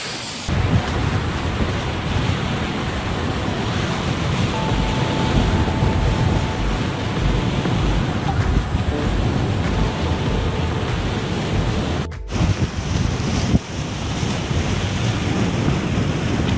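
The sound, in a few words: waterfall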